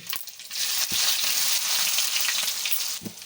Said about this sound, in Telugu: ఎర్రగడ్డల పేస్ట్ అల్లం వెల్లుల్లి కట్ చేసుకున్న మిరపకాయలు వేసుకొని ఫ్రై చేసుకోవాలి